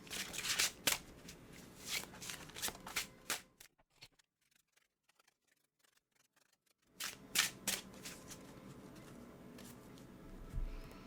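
Tarot cards shuffled by hand in quick, crisp riffling bursts, close up. The sound stops for a few seconds of near silence, then starts again.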